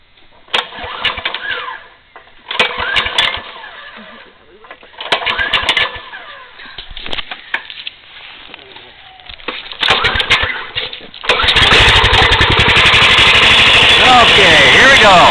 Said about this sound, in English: So we'll zoom back out, and we'll start the engine.